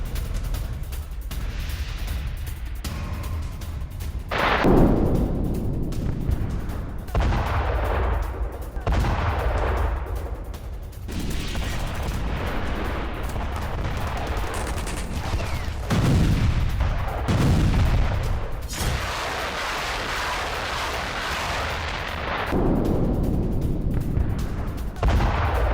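Artillery and gunfire from war footage of an attack on a Russian defence line in Zaporizhzhia: repeated heavy booms and bursts of shots roll over a dense, rumbling battlefield din throughout.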